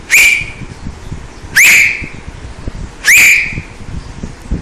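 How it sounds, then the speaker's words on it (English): Three sharp rising whistles from a person about two metres away, evenly spaced roughly one and a half seconds apart, each ending in a held note, with quiet room noise between. "Some whistles."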